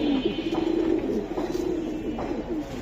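A large female Sabchila Giribaz pigeon gives a soft, low, rolling coo repeated several times, close and fairly quiet, with no voices over it.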